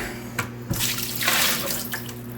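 Water splashes and pours into a reclaimed kitchen sink for a couple of seconds, with a few clinks and drips, close and fairly loud.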